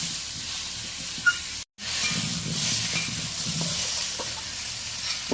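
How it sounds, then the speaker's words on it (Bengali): Potatoes frying in oil with salt and turmeric while being stirred give a steady, close sizzling hiss that briefly cuts out for a moment before resuming. "নাড়াচাড়া করে আলুটা একটু লালচে করে ভেজে নেব।"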